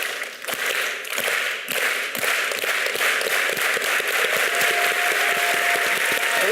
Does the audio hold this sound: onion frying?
no